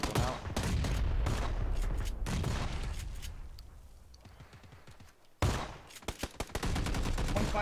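Shotgun blasts in Rainbow Six Siege ring out in dense, rapid volleys, loud and close, easing into a quieter stretch before a sharp burst of shots returns.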